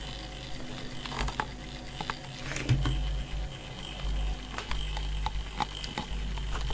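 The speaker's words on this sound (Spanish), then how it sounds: "El mismo va girando, vamos oyendo, voy a mover la cámara, iremos oyendo los diferentes clics." A powered washing machine timer motor turns steadily with a constant low hum, while its mechanism gives a series of irregular small clicks and ticks up close, with no talking.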